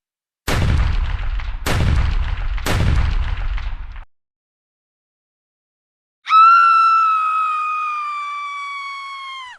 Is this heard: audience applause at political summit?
no